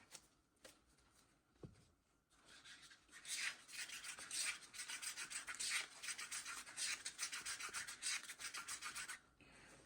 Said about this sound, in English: stirring way too fast and way too hard